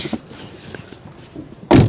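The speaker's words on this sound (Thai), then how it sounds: "ปิดประตู อ่ะ ปิดประตูจ้ะ" A car door is shut with one solid, loud thud near the end, after a stretch of quiet shuffling and small knocks inside the vehicle.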